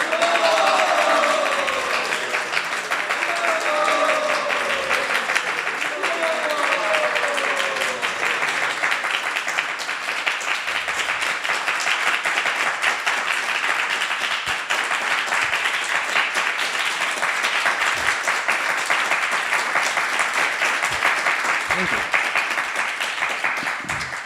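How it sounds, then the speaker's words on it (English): A temple audience applauds after a Krishna Katha talk at ISKCON Silicon Valley, with sustained dense clapping from many hands and a few cheers at the start, then fading slightly over about twenty seconds. "a big thank you for Sri Krishna Chaitanya Maharaj with a big Haribol and a big clap"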